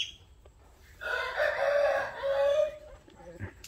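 A peacock on a mixed livestock farm gives one loud, drawn-out nasal call lasting about two seconds, heard close with quiet farmyard background before and after.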